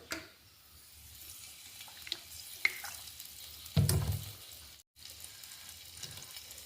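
Coconut oil goes into a clay pot for buttermilk curry, a short gurgling pour about midway amid quiet kitchen clinks and a faint background hiss.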